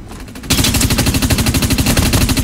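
Rapid automatic gunfire from a weapon in the shooter game Dust 514. A loud, continuous stream of evenly spaced shots starts abruptly after a brief quieter burst and carries on without talk.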